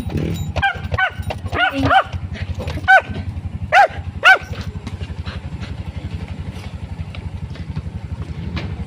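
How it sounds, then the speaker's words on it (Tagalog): A dog barks several times in short bursts, a few sharp yips close by, over a steady low engine rumble that continues afterward. "May aso na. Tingnan mo."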